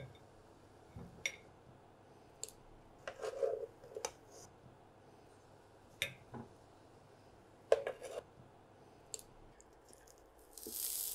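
Boiled potatoes being lifted out of a pan for butter garlic potatoes, with scattered soft clinks, squishes and utensil taps close by, fairly quiet and without talk.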